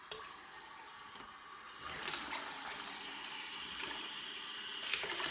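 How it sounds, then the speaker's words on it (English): Water runs steadily from a tap in a soft continuous wash, growing a little fuller partway through, with a few faint clicks and splashes. "So let me just go ahead and flip the water on real quick."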